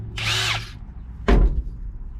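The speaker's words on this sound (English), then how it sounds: "All right, we got a drill." A cordless power drill whirs up briefly for a short run, then a sharp thunk and rattle follows, close and loud, while working on the battery terminals of a 1954 Chevy truck.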